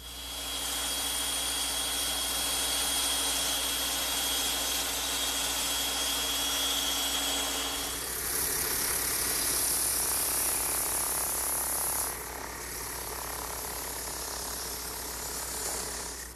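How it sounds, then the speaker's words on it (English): A bandsaw cuts a heart-shaped saddle piece from wood for a rocking horse, giving a steady loud machine whine throughout, with the tone shifting around midway and again near the end as the blade works through the board. "I've traced the outline from a pattern I made onto a piece of wood, and I'll cut it on my bandsaw."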